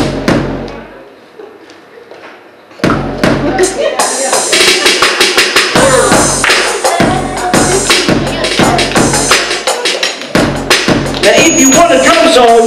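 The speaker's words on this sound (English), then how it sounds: "Just say drum solo." Percussion instruments played in a busy drum solo, dense rapid hits and thumps building after a quiet opening, loud and sustained throughout.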